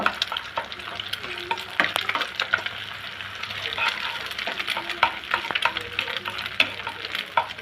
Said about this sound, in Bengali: দুইটা ডিম আমি স্ট্যাম্বল করে নিব বেশি ভাজব না হালকা একটু নরম করে ভেজে নিব